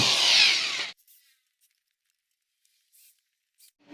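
Screws being driven into a PVC well door, a short loud burst of power-driver whir and grinding about a second long, then near silence with a few faint clicks.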